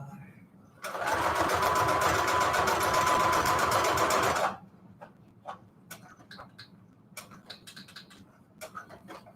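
A sewing machine stitches bedsheet fabric for notecards in a loud, steady burst of rapid mechanical chatter lasting about four seconds, followed by quiet clicks and light handling sounds.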